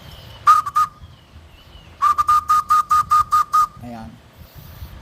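Sharp high homemade bird call whistle, two quick tweets then a rapid run of about eight evenly spaced chirps, close and loud, followed by a brief low sound.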